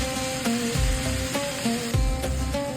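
Spicy chicken shawarma sizzles in a cast iron pan, a steady frying hiss with soft periodic clunks and scrapes recurring every half second or so, close and moderately loud, no talking.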